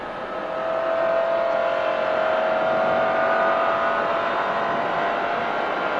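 McLaren F1 supercar driving at speed, a steady loud engine drone with road and wind roar holding continuously, close and without talk.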